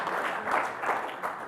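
A conference audience claps after a live demonstration, giving a short, steady patter of applause heard from a distance in a hall.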